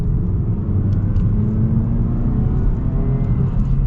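A 2023 Mazda 3 hatchback with AWD and no turbo accelerates in sport mode, a heavy low engine rumble with road noise heard from inside the cabin, steady and loud.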